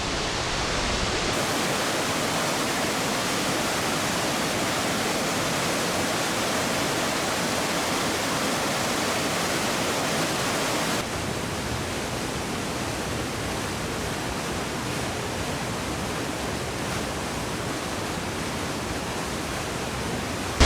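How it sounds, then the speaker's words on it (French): A waterfall in the Pays Cathare, in the valley of the Blanque at Bugarach, pours in a constant, dense roar of cascading water at close range, unbroken from start to finish. "Moi je continue d'admirer cette magnifique cascade"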